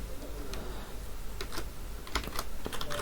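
Code being typed on a computer keyboard during a React programming session, with steady clusters of light key clicks and a few sharper taps over about three seconds, close and moderately quiet.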